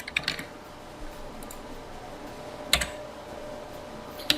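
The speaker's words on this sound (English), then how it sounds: "Let me type that out for you." Keyboard typing during a welding lecture: a few quick key clicks at the start, a long quiet stretch, then a couple more clusters of taps, fairly faint with no talk.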